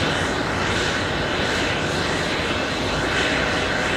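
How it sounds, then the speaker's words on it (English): A Delta Airbus A319 jet departing JFK airport gives off a loud, steady, broadband engine roar with slight slow swells, heard continuously from the ground with no talking. "Little A319, Delta 1164. Giving us a little bit of a right bank right after departure."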